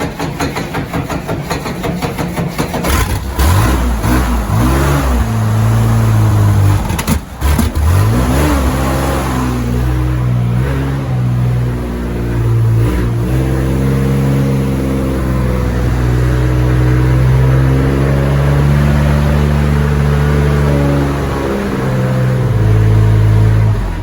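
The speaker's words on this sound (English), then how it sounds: "So the car needs some gas, and then we're gonna give it a good start up. Push button." A 1948 Tucker Torpedo engine cranks and catches, then settles into a loud, close idle broken by repeated throttle revs. The engine runs continuously, with no talking over it.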